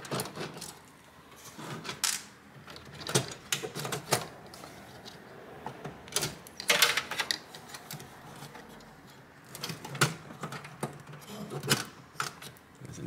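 Small metallic ticks and clicks of a screwdriver undoing a screw inside an HP desktop computer, irregular close-up taps and scrapes at varying loudness, with no talk.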